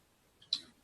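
A single soft computer mouse click on a software button, one short crisp tick preceded by a fainter pre-click, isolated in near silence.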